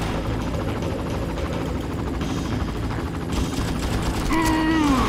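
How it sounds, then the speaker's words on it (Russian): A helicopter in the video game Far Cry, seen in a level on an aircraft carrier, gives a loud continuous rotor drone mixed with gunfire clatter and rising whines near the end. "Бляха, вертолет."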